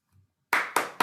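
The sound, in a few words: audience applause after a talk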